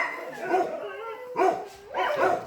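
Dogs at an animal pound bark and yip in a few close, loud bursts with whimpering tones between them, echoing slightly in the kennel.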